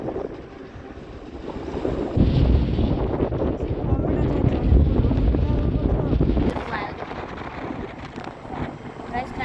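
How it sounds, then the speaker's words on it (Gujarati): Wind blowing steadily, a broad roaring rush that swells louder partway through, with some gusty rumble against the microphone and faint voices at moments. "ઠંડો વાયરો આવે છે"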